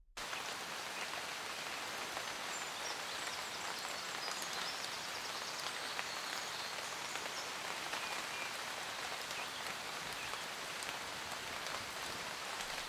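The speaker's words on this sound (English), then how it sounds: "I think me and Tizzy have both had enough of the rain." Rain falls in a misty woodland among ferns and trees, a steady close patter and hiss of drops on leaves running unbroken with no voices.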